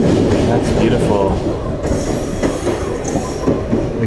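Train running along the sea coast in Hokkaido, a loud continuous rumble with wheel clatter and faint squeal, recorded from on board, with people talking under it.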